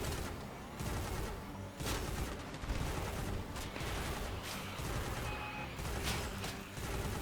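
Rapid bursts of gunfire ring out in a team shooter game, overlapping shots firing steadily and loudly across the whole stretch with no pauses.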